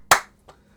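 One loud, close hand clap followed by a softer second clap about a third of a second later, both brief and dry, with nothing else heard.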